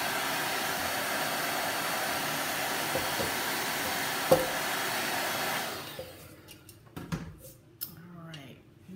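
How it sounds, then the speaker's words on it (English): A blow dryer runs steadily and loudly, heating and cracking chalk paint on a small metal bucket, then shuts off, leaving quieter handling clicks and taps. "I'm getting a really nice crack on this because I'm using a blow dryer"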